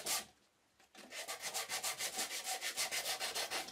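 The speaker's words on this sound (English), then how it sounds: "give the whole box a nice finishing sanding" Rhythmic sanding strokes rasp back and forth over a wooden box, quick and even, close by, after a short scrape and a brief pause.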